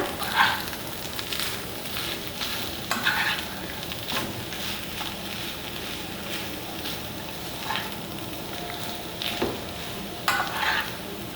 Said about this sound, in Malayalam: ഇത് നമുക്ക് നന്നായിട്ട് മിക്സ് ചെയ്തെടുക്കാം